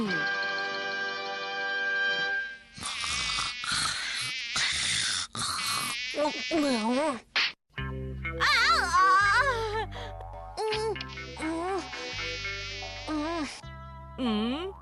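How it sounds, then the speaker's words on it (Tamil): A high, whining cartoon mosquito buzz rises and falls in pitch with wavering swoops, loud and close, with a low droning hum underneath in the second half. "இந்த கொசு என் தூக்கத்தை கெடுத்துடுச்சு."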